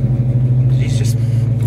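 A 1970 Ford Mustang Mach 1 with a stock 300 hp Cleveland engine and exhaust manifolds idles with a steady, loud, close low rumble that holds an even throb throughout.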